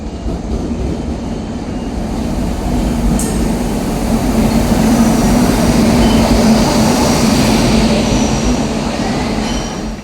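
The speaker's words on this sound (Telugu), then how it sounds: "ఇప్పుడే ట్రైన్ వచ్చింది" A passenger train on the Zahirabad to Kazipet line rolls in loud and close, a steady heavy rumble of wheels and carriages with a sustained wheel squeal, building through the middle and easing slightly near the end, with no talking.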